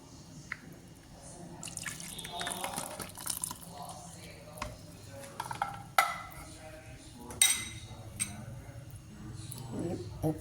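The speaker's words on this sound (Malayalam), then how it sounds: "ഇനി നമുക്ക് മിക്സി കഴുകി ഇത്തിരി വെള്ളവും കൂടെ ഒഴിക്കാം" Water poured into a rinsed mixer grinder jar in a kitchen: splashy pouring and dripping with a few sharp clinks against the jar, close by.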